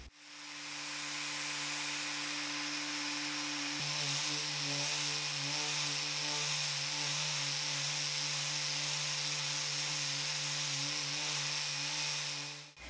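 An electric sander works steadily across a wooden dresser top, producing a continuous whirring hiss with a steady motor hum that shifts pitch slightly partway through and runs unbroken for the whole stretch.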